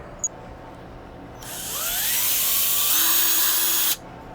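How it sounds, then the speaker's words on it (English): A power drill pre-drilling two screw holes for a flat door strike plate whirs up loudly after a click, holds a steady high whine for about two seconds, then stops sharply. "I'm going to need to pre-drill those 2 holes."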